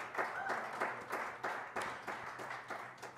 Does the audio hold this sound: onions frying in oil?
no